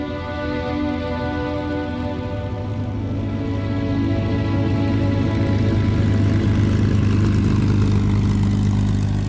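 Piston aircraft engines of P-47 Thunderbolt fighter planes idling at dawn, a steady, loud, deep droning rumble with layered harmonic hum that swells slightly in the second half, no voices.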